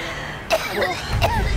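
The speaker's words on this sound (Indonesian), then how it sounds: "Ibu jadi batuk-batuk" A woman coughing indoors, two short harsh bursts about three-quarters of a second apart, close and fairly loud, with brief voiced sounds between them.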